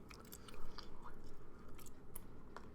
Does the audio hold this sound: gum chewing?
yes